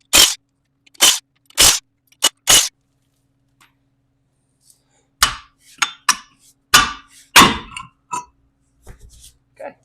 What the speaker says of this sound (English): so we're going to remove the 4 lug nuts here